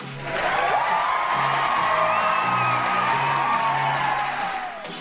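A crowd cheers and whoops during a livestream applause break for the Pokemon team, a loud continuous swell of voices with rising shouts, starting abruptly and easing off near the end.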